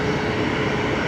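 A departing airliner climbs out overhead at Brisbane Airport, its engines a loud, steady broadband roar that fills the whole second without a break.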